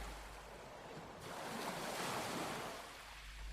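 Ocean waves wash onto a beach, a soft steady hiss that swells into one broad breaking surge and then eases off, heard faint and at a distance.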